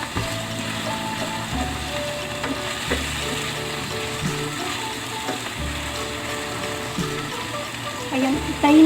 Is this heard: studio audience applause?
no